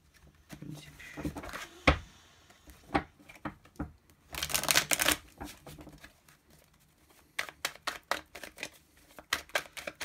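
Tarot cards being shuffled and handled in close-up: dry rustling, riffling bursts and sharp taps, with someone talking in between.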